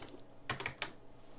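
A few quick, crisp computer keyboard key presses, including the M key, come as a close, quiet cluster of clicks in an otherwise still room.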